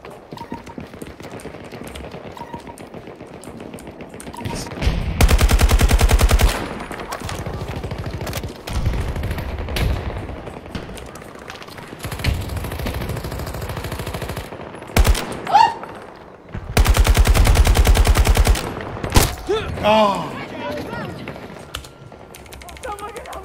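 Automatic weapon fire in the video game Battlefield, with several loud sustained bursts of machine gun shots among quieter gameplay sounds and occasional voices.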